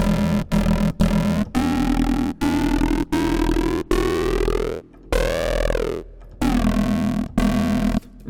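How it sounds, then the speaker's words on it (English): A buzzy synth with a bandpass filter and distortion plays a series of short sustained notes with a nasal, resonant sweep, separated by brief silences, loud and dry. "a basic shape with a bandpass and then some distortion at the top."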